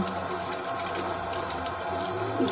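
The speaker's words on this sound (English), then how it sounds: "wash it in some blessed water, or just run it under the tap" Jewellery is rinsed under a running tap, giving a steady, close splashing and gushing of water without any talk.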